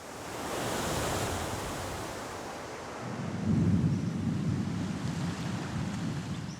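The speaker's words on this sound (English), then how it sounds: "As yet another storm hits the island" Storm on a remote island: steady roaring surf and wind, with a deep rumble of thunder building and rolling in from about halfway through, loud and continuous with no voices.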